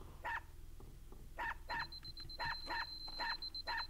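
Small dog barking repeatedly in the video game UnEpic, a series of sharp yaps in an uneven rhythm, loud and close, with a steady electronic tone and game background underneath.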